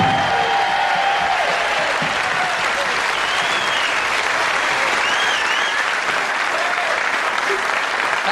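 A TV studio audience at a 1981 game show applauds loudly and continuously, a dense wash of clapping with faint cheers throughout.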